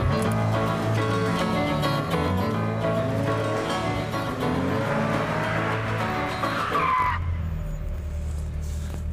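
A Ferrari sports car is driven hard on a race track, the engine roaring loudly and shifting pitch as it accelerates and brakes, with tire squeal and skidding through the corners before the noise drops sharply.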